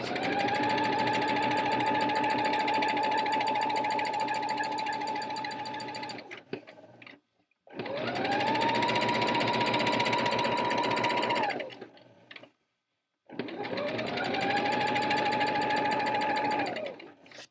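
A sewing machine stitches blouse fabric in three long loud runs, each a steady mechanical whir lasting several seconds, separated by short pauses. No one speaks.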